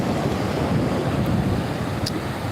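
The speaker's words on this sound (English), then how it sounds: "the waves are loud, so I don't know if they're loud for you guys or not" Ocean surf rolling onto a beach in Japan, a steady loud wash of broadband noise with wind buffeting the microphone, continuous for the whole stretch with no voices.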